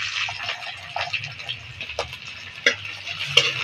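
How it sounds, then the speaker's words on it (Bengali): Chopped onion fries in oil in a wok, giving a soft continuous sizzle with occasional utensil taps and clicks, close and fairly quiet, with no talking. "তেলের উপরে পেঁয়াজ কুচি দিয়ে দেবো।"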